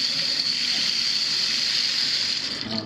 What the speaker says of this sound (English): I'm going to put some cold water on this rag.